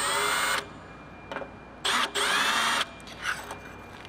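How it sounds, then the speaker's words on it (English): Power drill boring a rivet hole, heard as two or three loud whining bursts of about a second each separated by quiet pauses, close up and alone. "I drill the first hole, and that allows me to hold it here while I mark these next two"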